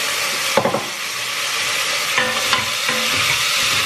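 Garlic and onion caramelizing in a pan give off a steady, close sizzle, with a few brief scraping stirs breaking through now and then.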